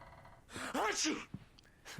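A character sneezes in the Alan Wake video game, a sharp gasping intake and burst in the middle of quiet moments, with speech-like breathy voice sounds around it.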